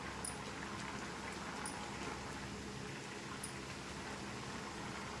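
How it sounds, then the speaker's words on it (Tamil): A pot of country chicken curry boils steadily, giving a soft, continuous bubbling and gentle spatter that stays faint and even, with no talk over it. "குழம்புல வந்து கொதிச்சிட்ருக்குது, சிக்கன் வெந்துட்டுருக்குது."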